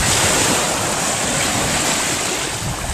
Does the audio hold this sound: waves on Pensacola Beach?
yes